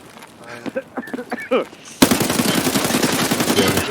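Gunfire in the video game Escape from Tarkov: after a brief voice, a sudden loud burst of rapid automatic fire rattles continuously for the final two seconds.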